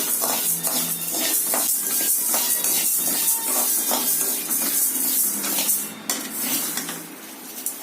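Roasted gram (pottukadalai) being dry roasted in a pan until golden, with a steady bright hiss and rattling scrapes of a stirring utensil against the metal, loud and continuous before easing slightly at the end.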